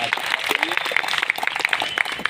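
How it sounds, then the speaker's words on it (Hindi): Audience at a college gathering claps and applauds in a brisk, scattered patter, moderately loud, with a voice speaking over it. "जोरदार तालियां।"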